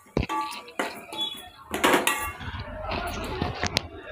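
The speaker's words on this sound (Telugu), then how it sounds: "టమాటాలు వేసుకొని ఇట్లా మంచిగా కలుపుకోవాలి" Tomatoes being stirred into a fish curry in a pan, with a spoon clanking and scraping against the metal in irregular bursts, close and moderately loud.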